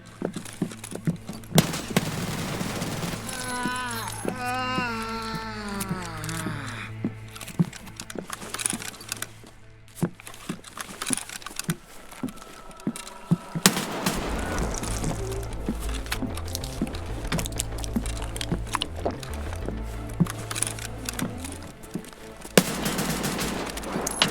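Gunfire in the video game Escape from Tarkov, with repeated sharp shots and bursts across the whole stretch, loud and close, mixed with game ambience and a short stretch of other in-game sound effects.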